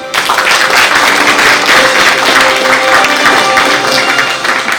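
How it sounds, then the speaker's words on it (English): Loud, steady applause from the audience fills a hall at the Punjab Leadership Awards 2024 ceremony, a thick wash of many hands clapping continuously, close and unbroken. "Audience, a little applause."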